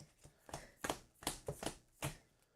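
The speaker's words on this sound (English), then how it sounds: "So I'll just shuffle it up, draw a new hand, create a new deck." Deck of game cards shuffled by hand at a tabletop Slay the Spire board game session, a series of soft close riffling bursts in an irregular rhythm, quiet and alone.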